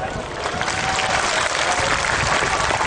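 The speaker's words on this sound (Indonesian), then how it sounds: "Tepuk tangan tuh." Audience applause at an Indonesian religious gathering with sholawat chanting and a sermon, a dense, steady wash of many hands clapping that fills the whole stretch at full loudness.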